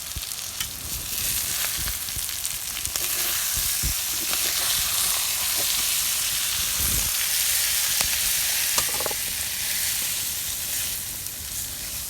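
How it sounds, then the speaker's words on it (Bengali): Vegetable curry frying in oil in a village kitchen, a steady close bubbling sizzle that runs throughout with a few soft clicks and stirring scrapes, no talking. "তেলে পুরপুর করে সব কিছু হইতেছে, ভাজা ভাজা হইতেছে"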